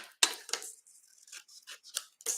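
Scissors snip through designer series paper, trimming off excess on a treat box craft; a few quick, close, crisp cuts in short bursts with quiet gaps between.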